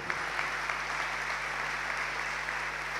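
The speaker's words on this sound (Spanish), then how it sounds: "Pido un fuerte aplauso para este alumno, que se llama Diego Arrue." An audience at a business-school welcome event gives a student a sustained round of applause, a dense, even wash of clapping at moderate volume with a low steady hum beneath it.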